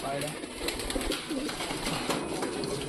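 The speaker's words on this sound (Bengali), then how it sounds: "উড়াইছিস পায়রা?" Pigeons kept as pets coo softly and rustle near and far in a home setting, with steady low murmuring and occasional faint wing movement, while people talk in the background.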